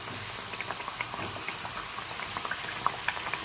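Flour-based sweets for a Holi special frying in oil, a quiet, continuous bubbling crackle dotted with small pops and a couple of sharper spits.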